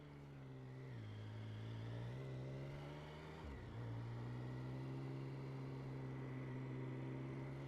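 A sport motorcycle fitted with a quick shifter accelerates hard along a road, its steady engine drone dipping briefly at two quick gear changes before pulling again, loud and close throughout.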